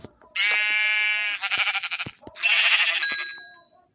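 Sheep in Minecraft bleat in two clear, close calls, a long wavering bleat followed by a second shorter one, loud and alone with no talk.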